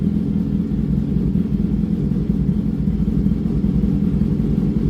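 A motorcycle engine runs with the clutch held, a loud, close, steady low rumble that holds an even idle throughout without revving.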